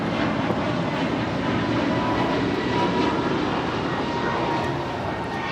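An American Airlines Airbus A321neo departing Los Angeles International Airport, heard as a loud, steady roar of jet engines that fills the whole stretch and eases slightly at the end.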